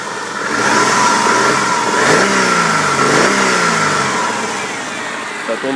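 A 1999 Subaru Forester's engine revs up and settles repeatedly, loud and close, with rising and falling pitch sweeps over a steady running drone.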